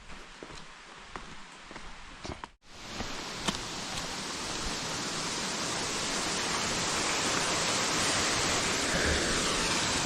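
A waterfall in rural India roars as a broad, steady rush of falling water, growing louder and fuller after a brief quiet start with scattered light rustles.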